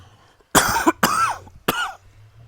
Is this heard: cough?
yes